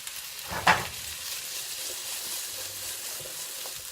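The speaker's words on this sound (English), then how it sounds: "you add your cubed potatoes. And you just let them cook." Cubed potatoes frying in olive oil in a pan, a soft, steady close sizzle with one brief louder clatter early on, otherwise an even low hiss throughout.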